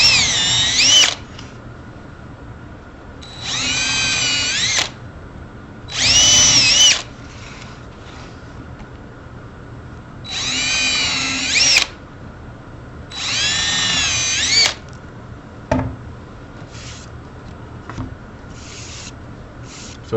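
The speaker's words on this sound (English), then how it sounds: "I'm going to use the hand drill for this." A hand drill whirs in repeated bursts, drilling holes in a wall plate over a support board, several short runs of grinding, rising-pitch drilling separated by pauses with small clicks and handling noise.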